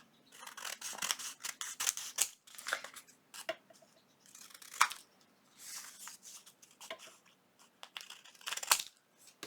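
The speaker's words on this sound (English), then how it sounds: "I am going to trim around this tag just like this." Scissors trim around a paper junk journal tag trimmed with a doily, making a close, quiet run of repeated crisp snips and paper rustles with short pauses between cuts.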